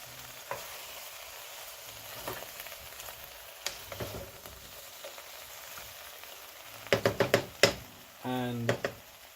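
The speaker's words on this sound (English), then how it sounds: "Stir that in." Vegan food with mushrooms sizzling in a pan, a soft continuous fry punctuated by scattered spoon taps, then a quick burst of louder clatters and stirring scrapes near the end.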